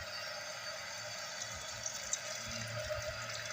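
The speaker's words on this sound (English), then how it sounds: "Then I'm gonna pour some vinegar." Vinegar being poured over raw pork shoulder in a kitchen, a faint steady trickling splash with a few louder drips, fairly quiet and without talk.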